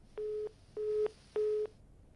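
Three evenly spaced electronic beeps of a phone disconnect tone as a call drops right after being answered, each about a third of a second, clear and alone.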